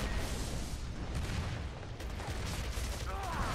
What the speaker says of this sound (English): I just went right into his face and said, hey, you're going to hit me with a shotgun while I hip fire you